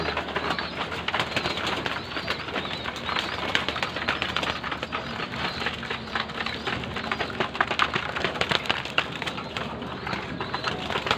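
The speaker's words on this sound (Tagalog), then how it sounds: "siyempre patuka tayo ng mga ibon natin" Racing pigeons coo and flutter around a loft while being fed grain at dusk, a dense close mix of cooing, pecking and scratching under steady background noise, with no talking.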